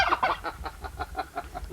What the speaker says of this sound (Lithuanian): Ale pažiūrėk, kad kalakutas eina į vaikus.